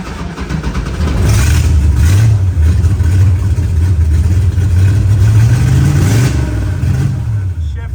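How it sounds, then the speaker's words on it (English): A vintage car engine revs repeatedly into a rev limiter set at 3000 rpm, a loud close rising drone that climbs and cuts back several times, with brief dips between pulls. "the limiter, I'm gonna put right at 3. Cuts it out."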